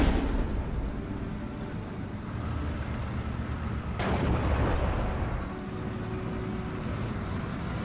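Panzerwerfer rocket artillery firing in Steel Division: Normandy 44, a dense rumbling barrage of launches and distant blasts, with a sharp crack midway and a continuous low battlefield roar throughout.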